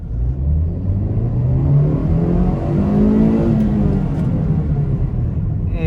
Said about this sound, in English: Alright, let's test the pickup again. Put in first, clear the speed bump.